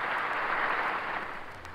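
Crowd applauding at a Nazi party rally in the Berlin Sportpalast, a dense, steady wash of clapping from a large hall that eases slightly toward the end.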